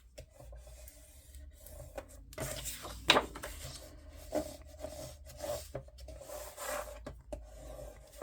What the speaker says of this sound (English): we're just going to fold all of our score lines and burnish them